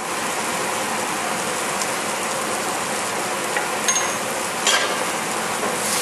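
Spices for a Punjabi goat curry sizzle steadily in a hot pan, a dense, even crackle with a few faint clinks near the end, no voices.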